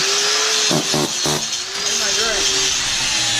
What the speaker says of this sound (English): All right, grind it.